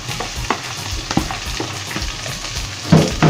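Vegetables and rice frying in a wok, a steady sizzling hiss with sharp scraping stirs of the spatula at intervals and a louder tossing burst near the end, close and alone.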